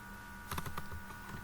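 Code typed on a computer keyboard, a quick run of soft, close keystrokes lasting about a second, with no voice over it.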